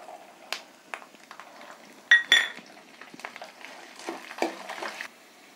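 Green chillies dropped into a pan for lemon rice, with sharp metal clinks and scrapes of a spoon stirring against the pan, in short irregular bursts, close and fairly loud.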